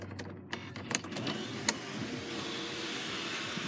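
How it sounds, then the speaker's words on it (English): A Volkswagen Tiguan's very large panoramic sunroof motors open inside the cabin, a steady low mechanical whir running under a few faint clicks and knocks. "Up here you have your panoramic sunroof."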